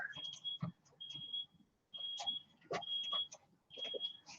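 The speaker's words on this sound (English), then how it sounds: "That beeping you hear is our garbage guy backing up." A garbage truck's reversing beeper sounds as a series of five high, steady beeps at a regular rhythm, with faint clatter and rumble between them.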